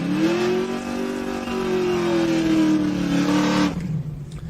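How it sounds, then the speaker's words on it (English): A 1972 Chevrolet Nova and a 1973 Camaro launch in a drag race, their engines roaring loud and close as they rev and pull away down the track, then cutting off sharply near the end. "The 72 Nova and the 1973 model Camaro go down the racetrack next."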